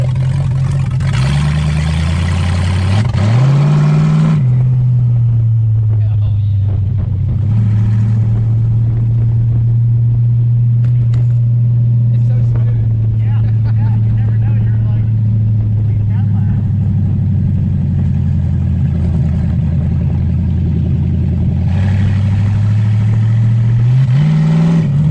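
A T-bucket hot rod driving around a neighborhood, its engine rumbling steadily with a loud, close low drone, rising and revving at the start and end and easing to a cruise in between.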